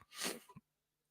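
A single short, sharp sneeze close by, breathy and explosive, ending abruptly into near silence.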